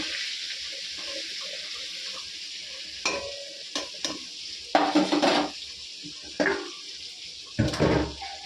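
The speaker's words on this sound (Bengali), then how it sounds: "তার আগে আমি পটলগুলো ভেজে নেব। কড়াইতে তেল দিয়ে দিয়েছি।" Sliced pointed gourd fries in hot oil in a wok with a steady close sizzle, broken by several louder scraping and clattering bursts of stirring.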